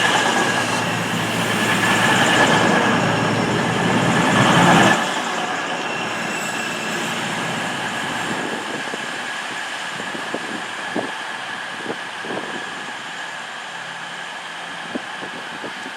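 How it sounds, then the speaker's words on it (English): A Class 220 Voyager diesel train rumbles loudly into Banbury station, the heavy roar easing after a few seconds into a quieter idling hum with scattered clicks and faint squeals. "Arriving into Banbury now is a Class 220 cross-country voyage service to Manchester Piccadilly"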